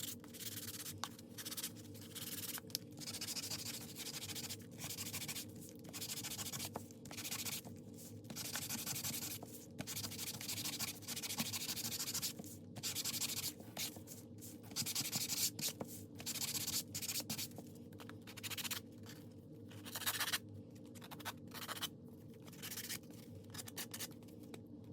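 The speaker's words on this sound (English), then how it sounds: "So let's just get this sanded a bit." Sandpaper is rubbed by hand across a glossy surface in quick back-and-forth strokes, a steady, close scratchy rasp with short pauses between passes.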